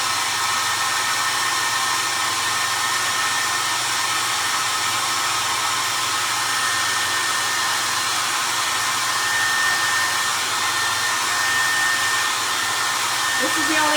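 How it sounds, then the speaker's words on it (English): Hair dryer drying a Dollar Tree primitive Easter Peeps craft, a loud steady close-up whoosh of air that runs unbroken throughout. "I'm going to try to dry it now."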